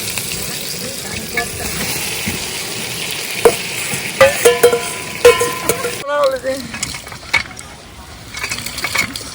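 Potatoes and tomatoes are tipped into a spice mix frying in a pan at an outdoor forest cooking spot, setting off a rising sizzle and crackle with scraping stirs and clinks of a utensil against the pan; a voice speaks briefly.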